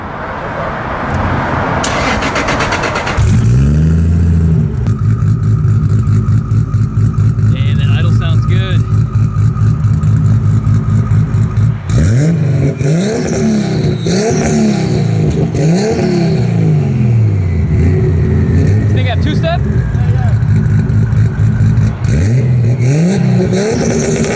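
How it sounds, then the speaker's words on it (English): A 1994 Toyota Supra with an 800-horsepower stock 2JZ-GTE engine cranks and starts, then settles into a loud rumbling idle broken by several rising revs, very close, with people talking over it. "start her up for us, give us a little rev"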